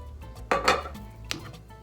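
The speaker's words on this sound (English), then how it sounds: "And we start mixing." Cold rotini pasta salad dressed with champagne vinaigrette gets mixed in a bowl, two sharp clinking knocks of utensil against the dish standing out over soft, faint stirring sounds.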